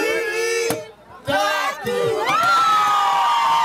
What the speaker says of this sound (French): Le candidat Malo a été accompagné par une foule jusqu'au point de son meeting